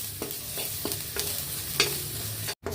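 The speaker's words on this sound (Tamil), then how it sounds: "இதுவும் நல்ல கலர் மாறுற வரைக்கும் நல்லா வதக்கிடுங்க லோ ஃப்ளேம்லேயே." Lentil powder ingredients stirred in a pan over a low flame, a soft continuous sizzle broken by several rhythmic scraping strokes of a spoon, close and clear, ending in a brief cut.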